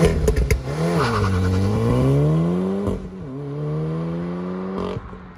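A 2016 Volkswagen Golf R engine revs up and settles on a test drive, its note sweeping upward and holding steady, loud and close with no voices.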